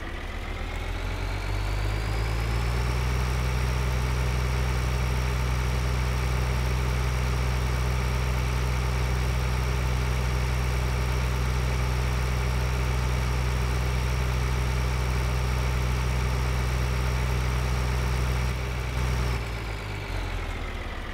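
Tractor mower engine idling in Farming Simulator 2013, a loud steady low drone with a constant hum, starting up and holding an even note before cutting off near the end.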